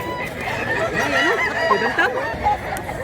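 Chickens at a Cebu poultry market cluck and squawk close by in a quick, uneven series of calls over a busy background.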